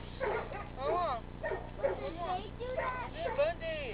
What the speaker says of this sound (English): look at the dogs, are gonna go crazy now